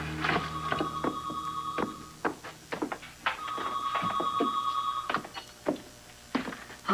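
A telephone rings in a domestic soap-opera scene, two long trilling bursts with short gaps, close and clear, followed by clicks and brief handling sounds with no talk.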